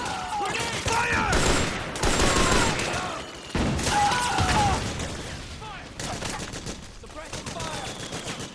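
Heavy Metal Gear Solid 4 firefight: rapid, sustained bursts of automatic gunfire in dense overlapping volleys, close and loud, with shouting voices of soldiers mixed in between the shots.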